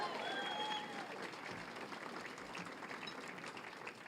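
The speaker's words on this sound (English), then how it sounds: "Give him a round of applause again for his work on that issue." A crowd claps steadily in a sustained round of applause, with a few faint voices mixed in.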